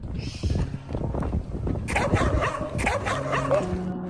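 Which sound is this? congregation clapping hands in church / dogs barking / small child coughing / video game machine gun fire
dogs barking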